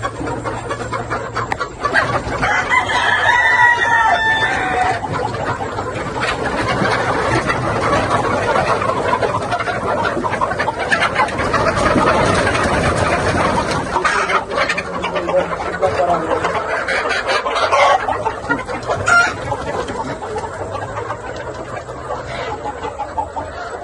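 Desi hens cluck and call on a poultry farm, with intermittent close clucks over a busy, noisy background through the whole stretch. A voice seems to speak at times.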